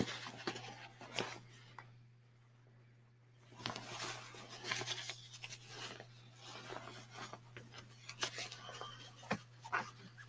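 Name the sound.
dog barking and whimpering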